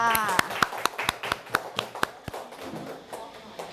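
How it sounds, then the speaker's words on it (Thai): A few primary school pupils in a Thai grade 3 classroom clap their hands for a classmate, with sharp, uneven claps spread over a few seconds and faint voices in the background. "ปรบมือให้เพื่อนหน่อยค่ะ"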